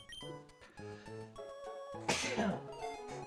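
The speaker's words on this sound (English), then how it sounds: "I gotta sneeze." A single sudden sneeze bursts out midway, close and sharp, over light background game music during a Pokémon Run & Bun Nuzlocke playthrough.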